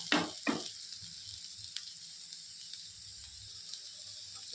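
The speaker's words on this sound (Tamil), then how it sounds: "நல்லா வதங்கட்டும்." Chopped banana flower sautés in a pan with onion, grated coconut, salt and turmeric, a soft steady sizzle opening with two brief louder stirring scrapes, then settling into a quiet continuous hiss with occasional faint ticks.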